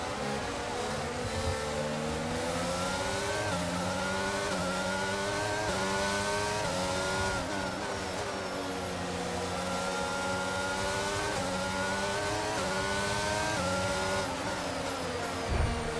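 F1 race cars scream down a straight in the racing game F1 2022, a continuous high-revving engine whine climbing through the gears with repeated upshift dips, loud and sustained with no talk.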